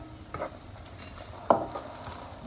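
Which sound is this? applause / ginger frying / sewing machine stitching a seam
ginger frying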